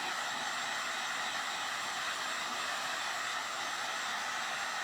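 Hair dryer blowing hot air over paint on a thin clear plastic ornament, a steady, loud, unbroken whoosh that holds level throughout with no talking.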